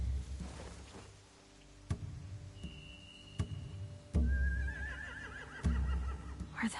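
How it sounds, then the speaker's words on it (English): Horses in a stable in The Walking Dead video game give a high, wavering whinny partway through. Sharp thuds and faint rustling surround it, and the call is moderately quiet. Nobody speaks. "They have horses."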